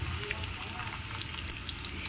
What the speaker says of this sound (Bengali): পেঁয়াজগুলো এবার আমি আলুর সাথে আরও একটু ভালো করে ভেজে নেব